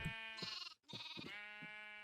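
Several sheep bleating in a Minecraft sheep farm, close and loud, a handful of wavering calls following one another with a short gap partway through.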